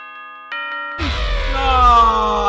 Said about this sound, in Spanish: ¡Marca las horas, reloj!